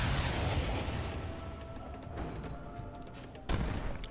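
Heavy cannons fire in the Age of Empires III: Definitive Edition video game, with a rumbling barrage up front and a sharp, loud blast near the end.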